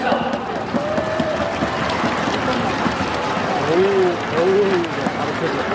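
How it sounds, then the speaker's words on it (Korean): Fans at a baseball stadium clap in a broad, steady wash during a ceremonial first-pitch event, with an announcer's voice and brief cheers rising over the applause. "이채연 씨에게 다시 한 번 더 응원의 박수 보내주시면 또 받겠습니다."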